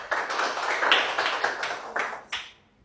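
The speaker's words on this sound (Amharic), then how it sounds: "አጨብጭቡላት" An audience claps for a few seconds, a burst of hand claps that rises, holds, then thins out and stops, fairly close and with no talking.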